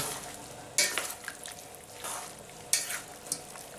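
A glass noodle salad is being stir-fried and tossed in a pan, giving soft sizzling under a few sharp scraping strokes of a utensil against the pan at uneven intervals, with no voices.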